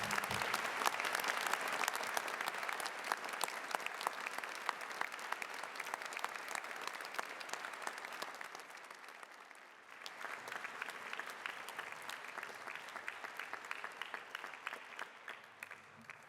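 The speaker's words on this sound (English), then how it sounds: "please be upstanding to applaud the Holmesglen class of 2015 on this their graduation day" Sustained applause from a standing audience honouring the Holmesglen class of 2015 on graduation day at an awards ceremony, dense and steady for about ten seconds, dipping briefly before swelling again.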